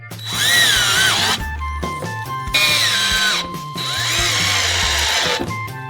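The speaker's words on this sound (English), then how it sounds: "Now we are armed with a screwdriver and corners. We fasten them to the plywood." Someone drives screws through corner brackets into plywood with a power screwdriver. It gives three long, loud, close whirring runs, each with pitch shifts as the motor loads, separated by short pauses.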